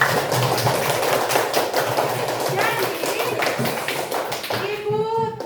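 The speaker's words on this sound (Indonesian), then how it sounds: "tepuk tangan dulu semua" Students clapping together in a classroom, a dense stretch of many hands beating steadily with children's voices mixed in, before a voice rises clearly at the end.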